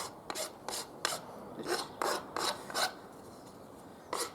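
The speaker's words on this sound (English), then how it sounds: "I'm just going to use my file just to take off any rough edges." A hand file taking rough edges off wood for a wind charm, with about nine crisp rasping strokes in a loose rhythm, close and distinct, and short pauses between them.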